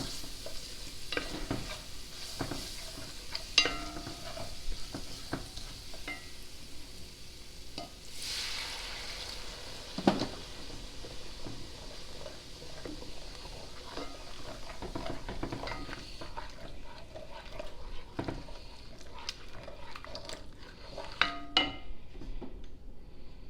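A spoon works through tomato paste, German beer and beef broth in a pot for a saucy pot roast, giving a steady, close run of wet stirring and scraping with light sizzle and occasional knocks against the pot, no talking.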